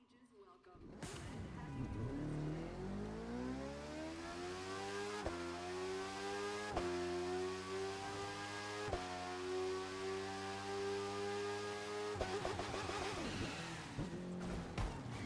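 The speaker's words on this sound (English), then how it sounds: "You get the Suzuki GSX R1000R." A Suzuki GSX-R1000R motorcycle engine in The Crew 2 rises from idle into a long, loud, sustained rev, briefly shifting pitch a few times before easing off near the end, with quiet talk underneath.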